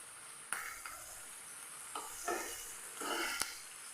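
Tomato chutney sautéing in a pan, a soft steady sizzle with a few spoon scrapes and stirring clinks against the pan, close and fairly quiet.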